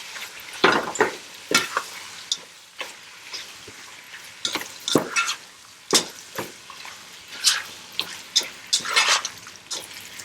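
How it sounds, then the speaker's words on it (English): Meat sautéing in a pan for Persian loubia polo, with a soft steady sizzle broken by scattered clinks and scrapes of stirring, close up and without talk. "I still see pink here in the meat, so I'm just gonna let it saute"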